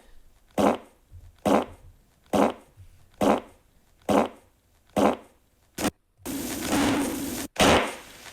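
Series of short fart sounds, six evenly spaced bursts about one per second, then a longer sustained one and a final burst, loud and close.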